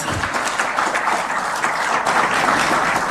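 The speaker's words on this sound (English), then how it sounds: "I believe that speech deserves a bigger round of applause." A large audience at a summit applauds warmly, a dense, steady roar of clapping that fills the whole stretch without a break and with no talking.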